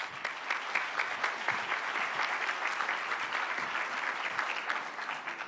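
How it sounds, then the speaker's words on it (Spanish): An audience applauds steadily at a seminar opening, a dense, even wash of many hands clapping throughout with no voices over it. "Un aplauso para ella, por favor."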